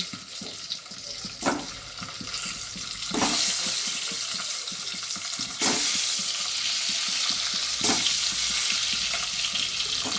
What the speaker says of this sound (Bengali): এবারে আমি ডিমগুলোকে একে একে এতে দিয়ে দেব।